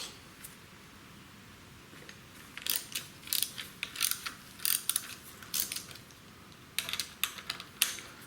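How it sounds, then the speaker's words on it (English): A torque head wrench loosening the triple tree clamp bolts on a Harley front fork, rapid ratchet clicking in several bursts after a quiet start, close and with no talk. "back with a torque head to loosen up now the triple tree clamp"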